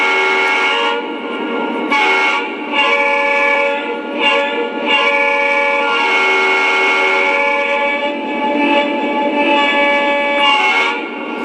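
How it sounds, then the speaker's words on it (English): A Lionel CSX SD40-2 model locomotive sounds its multi-chime horn in several loud, close blasts, some sustained and some short, with no talk. "Okay, let's first listen to the horn."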